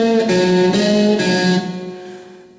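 A sustained electric guitar chord played with a glass cylinder slide rings with gently sliding, wavering pitch, then slowly fades away.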